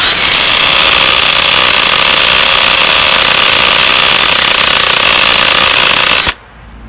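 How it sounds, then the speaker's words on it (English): A Hercules cordless hammer drill runs on its hammer setting, boring steadily with a loud, harsh, continuous rattling roar for about six seconds before stopping abruptly, close and alone. "I started drilling, but I forgot to put it on the hammer setting, so now it's on the hammer setting"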